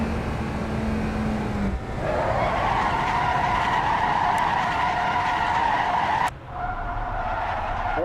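Car tyres skid and squeal under hard straight-line braking in the Assetto Corsa EVO racing game, a loud sustained screech lasting several seconds over steady engine and road noise before cutting off abruptly.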